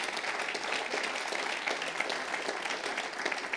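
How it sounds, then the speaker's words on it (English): A regional meeting crowd gives a round of applause, a soft, distant wash of many hands clapping that holds steady for several seconds. "Round of applause."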